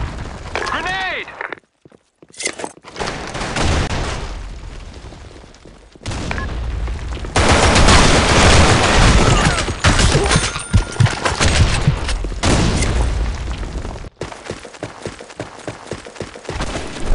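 Grenade blasts and bursts of gunfire in the shooter game BlackShot, a loud, dense stretch of booms and rapid shots with brief quiet gaps, while voices call out over the action.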